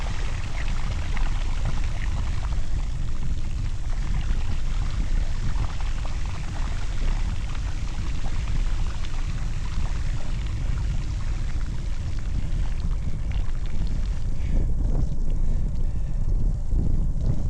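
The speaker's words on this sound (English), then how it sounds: "that was deep water. I was in, I'm gonna say about 6 inches deep of water." A bicycle rides through water about six inches deep, giving a continuous loud rushing, splashing wash mixed with wind buffeting on the microphone throughout, no talking.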